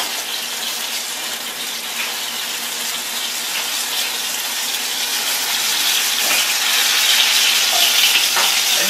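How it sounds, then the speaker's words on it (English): Apple beignets deep frying in hot oil give a steady, dense sizzle and bubbling hiss that holds throughout and swells slightly louder toward the end, with no voices. "Let them deep fry until they come back up, get a nice golden color."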